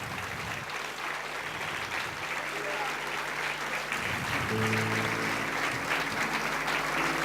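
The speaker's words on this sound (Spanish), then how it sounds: "¿Qué tal si le damos un aplauso?" A congregation at a Christian church service applauds together, steady dense clapping that fills the room at even loudness, with sustained organ or keyboard tones and some voices audible beneath the applause.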